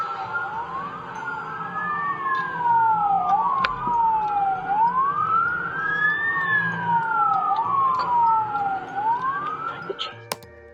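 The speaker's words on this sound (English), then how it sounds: "The cops arrived, blasting their sirens" A wailing siren sweeps up and down in slow, repeating cycles, loud and steady, like a police car passing nearby, with faint background noise underneath.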